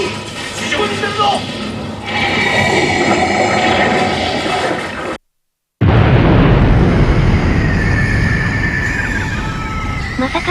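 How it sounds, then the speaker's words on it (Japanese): A massive roaring blast fills the scene with dense rumbling noise, cuts to a brief silence, then a second thunderous wave of explosion roars on, the Second Impact explosion in Antarctica from Evangelion. "まさかの大爆発で"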